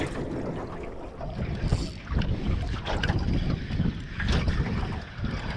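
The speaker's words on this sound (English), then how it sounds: "the wind's starting to pick up already" Wind gusting over open water around a small fishing boat, a steady broadband rush with rising and falling surges and buffeting on the microphone, with no talk.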